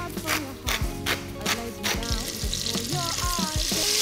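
Pork cheeks searing in a pan of butter and clarified butter (ghee), seasoned with salt and pepper, give a steady close sizzle with crackling bursts and some clinking and stirring of pieces.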